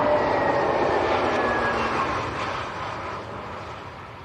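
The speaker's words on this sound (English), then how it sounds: "here comes the A320neo of EasyJet from" An EasyJet Airbus A320neo arriving from Belfast at Leeds Bradford Airport, its steady broadband jet roar loud and continuous, slowly easing in level as it passes.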